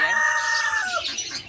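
A rooster calls out close by in a single loud, drawn-out vocalization that breaks up toward the end, with no talking.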